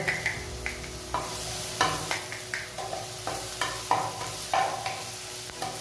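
Garlic and ginger fry in oil in a pan while a utensil stirs and scrapes them in irregular strokes, a steady sizzle running underneath at close range.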